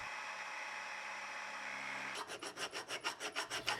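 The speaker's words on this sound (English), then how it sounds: "then file it to its final shape" Hand file shaping the tang hole of a wrought iron tsuba, a Japanese sword guard. After a steady background hiss, about eight even back-and-forth rasping strokes follow in a quick, regular rhythm, close up and alone.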